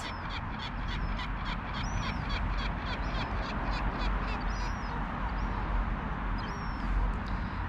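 Gulls and crows call outdoors, with repeated short raucous cries and caws over a steady hiss of wind or water, fairly quiet and continuous throughout.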